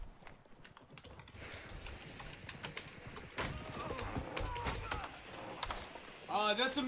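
A moose in the survival game The Long Dark stomps along in heavy, irregular footfalls that grow louder partway through, with a brief burst of bird-like chirping at the end and occasional voice in the background.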